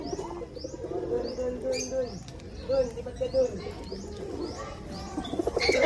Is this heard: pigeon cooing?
yes